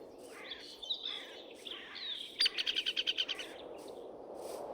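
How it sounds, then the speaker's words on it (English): Birdsong in a Minecraft forest: varied chirps and whistles, then a quick run of rapid repeated notes, over a soft steady ambient hiss. "the singing of birds in forests,"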